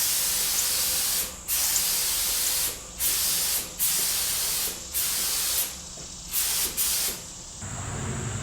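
A spray gun lays a thick coat of paint on motorcycle parts for an SV650 street fighter build, a close, loud hiss in repeated bursts of about a second each, separated by brief pauses.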